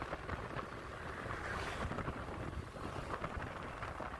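Steady wind blows outdoors along a roadside while riding a vehicle, a continuous broad rushing roar of gusts buffeting the microphone with no voices.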